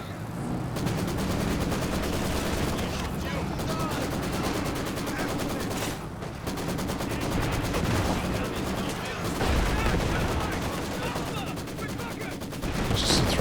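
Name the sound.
Maxim machine gun firing in Company of Heroes 2 video game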